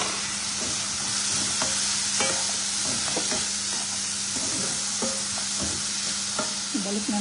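Fish frying in a pan with a little rosemary, a steady close hiss and sizzle with scattered soft stirring clinks and scrapes, alone without talk.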